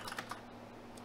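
Quick, light keystrokes on a computer keyboard as a command is typed, a short run of close, crisp clicks in an otherwise quiet room.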